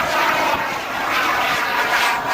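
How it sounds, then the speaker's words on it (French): Twin-turbine RC model jet at a meeting, roaring loudly with a steady whooshing turbine rush that swells and fades slightly as it passes, with no voices. "Il y a deux réacteurs."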